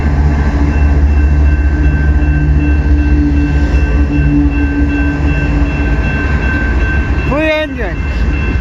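A CN freight train hauled by three engines rolls past at close range, a loud steady rumble of wheels and cars filling the clip, with a brief squealing tone near the end.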